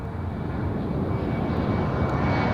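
A UPS heavy jet taking off from runway 28R at Fort Lauderdale airport gives a deep, continuous engine roar that stays loud and steady throughout.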